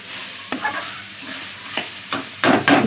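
Vegetables being roasted in a pan, a soft steady sizzle punctuated by several close scraping stirs of a utensil, the last two louder and rougher.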